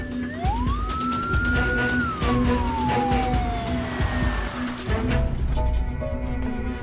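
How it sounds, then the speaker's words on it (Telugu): A wailing emergency siren rises and falls over steady loud traffic rumble, close by, with no talking. "తప్పుకోండి అంబులెన్స్ దారండి పదవండి."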